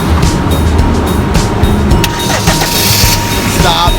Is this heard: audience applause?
no